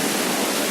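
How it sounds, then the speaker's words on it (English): Strong sea waves breaking on Radhanagar Beach, Havelock Island, Andaman, heard as a loud, dense, continuous roar of surf with no voices. "Strong waves."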